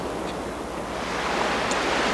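Waves washing onto a beach at Cannes, France, a steady broadband surf hiss that swells slightly toward the end, close to the microphone with faint wind and no talking.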